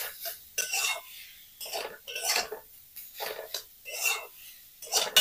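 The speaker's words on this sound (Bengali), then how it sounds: "মশলার সাথে এঁচড়টাকে ভালো করে নেড়ে নেব।" Young jackfruit being stirred with spices in a pan, a series of irregular scraping and clinking strokes of a utensil against the pan, close and moderately loud, with short gaps between.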